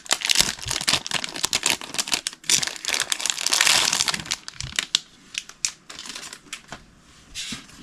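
Plastic crinkles and crumples loudly up close in irregular bursts of rustling, fading into lighter scattered crackles.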